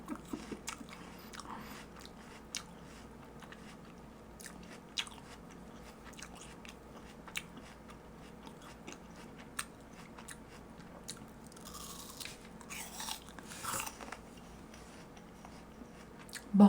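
Someone bites into a crunchy apple again and again over a long stretch, with sharp crisp bites followed by wet chewing, close to the mic and with no talk.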